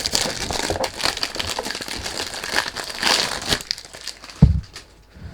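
Close, continuous crinkling and crumpling of plastic packaging while unboxing a perfume bottle, rustling in irregular bursts, with a sharp thump near the end.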